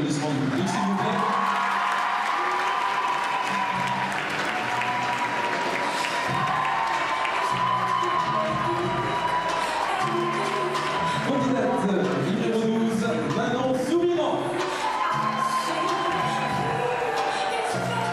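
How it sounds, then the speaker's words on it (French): Audience applause and cheering at the Miss Saône-et-Loire 2014 beauty pageant as candidates parade, steady and sustained clapping mixed with crowd noise and background music throughout. "vous allez pouvoir le relever avec ce défilé sous les applaudissements du public"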